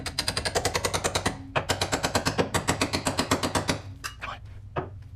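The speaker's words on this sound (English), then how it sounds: "And we got the hammer." Rapid, regular metallic hammering on the front suspension of a Porsche 944 comes in dense bursts that pause briefly, then trail off into a few isolated strikes.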